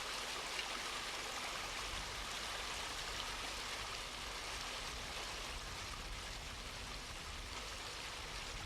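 Flowing river water runs over rocks on a sunny Algarve stream, a steady, soft, broadband rushing that stays even and unbroken with no voices.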